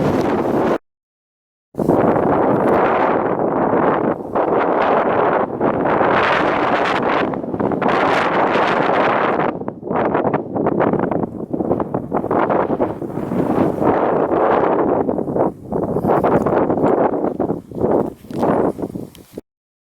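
Blustery wind buffets the microphone during a 500-foot hill climb above Barmouth, loud gusty roaring that surges and dips continuously, with a brief silent gap near the start and no talking.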